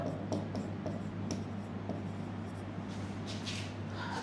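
Marker or chalk strokes on a board during a lecture, heard as soft, quiet scratches and taps in short bursts over a steady low hum of room noise.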